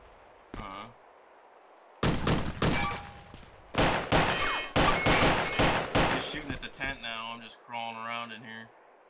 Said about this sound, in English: Yeah, he just shot at me.